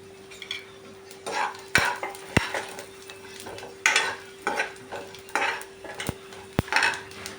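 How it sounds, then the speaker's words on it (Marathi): Coriander and cumin seeds dry roasting in a pan after coconut, with repeated stirring scrapes and light clinks in an uneven rhythm, fairly quiet and close, no talking. "आता आपण त्याच्यात धने टाकून घेऊया आणि जिरे टाकून घेऊया भाजण्यासाठी"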